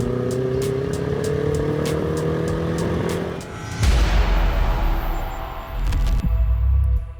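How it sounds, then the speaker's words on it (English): A home-built classic Mini drones loudly with steady engine noise, then bursts into a sharp, louder roar with heavy low rumble partway through, easing back briefly before surging again. "my home-built classic Mini"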